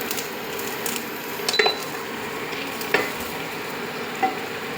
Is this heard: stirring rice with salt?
yes